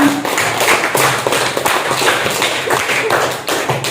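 A classroom of students claps hands together during a lesson on prophet stories, a dense, steady patter of many claps lasting a few seconds, fairly loud and close with no talking over it.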